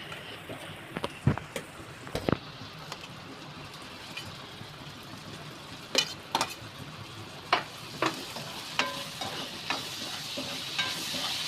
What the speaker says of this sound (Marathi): आता त्याला कांदा आणि तेलामध्ये फ्राय करून घेते